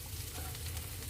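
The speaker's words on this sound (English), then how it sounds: "you don't need too much oil in the frying pan for your scrambled egg" Scrambled eggs frying in a pan with butter, garlic and a little oil, giving a soft, steady close sizzle for a brief moment, fairly quiet and with no talking.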